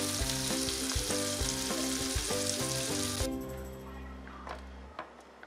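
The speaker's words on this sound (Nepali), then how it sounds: "न पनीर पनि राम्ररी फ्राई भइसक्यो अब यसलाई यो भन्दा धेरै फ्राई गर्नु हुँदैन" Paneer cubes fry in oil in a pan for a spicy paneer gravy, giving a loud, steady sizzle that drops to a quieter crackle partway through, with music playing underneath.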